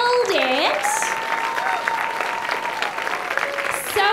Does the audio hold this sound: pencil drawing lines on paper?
no